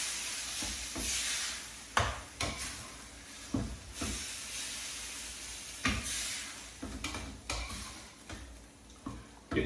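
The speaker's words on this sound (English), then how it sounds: "Mix that through." Minced meat and passata stirred in a hot pan, a soft steady sizzle broken by repeated scrapes and knocks of a spoon against the pan every second or two, close and alone.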